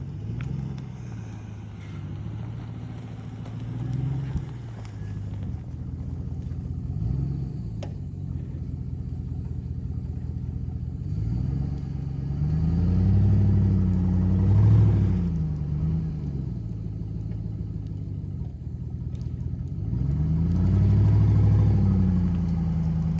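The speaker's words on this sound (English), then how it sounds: "So now it's just a matter of pulling on it with the pickup truck." A pickup truck engine straining at low revs while pulling on a tree, a steady rumble that swells and surges in bursts before settling back, with no talking.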